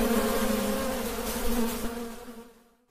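A dense, steady buzzing of many honeybees close by, a Kozköy bee, a Caucasian bee hybrid, in Turkey, a low droning hum with higher whine, fading out near the end.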